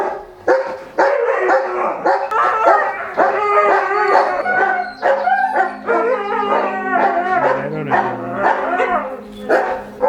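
Several dogs bark and howl together at close range, a loud, continuous chorus of overlapping yips and drawn-out howls with no pause.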